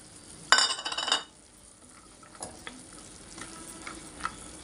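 Peas drop into tomatoes cooking in a pan for pav bhaji, a brief burst of sizzle and rattle followed by quiet simmering with faint taps.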